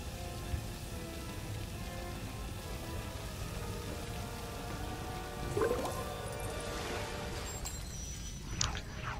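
Water pouring and splashing to fill a structure in the LEGO Harry Potter video game, a steady broadband rush with drip-like accents and a brief chime, with no talk over it.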